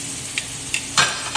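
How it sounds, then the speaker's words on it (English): A steak sears in a hot pan with a steady, close sizzle, broken by a few sharp crackles and spits of fat. "You can hear that sizzle."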